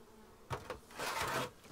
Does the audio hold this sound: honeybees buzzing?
yes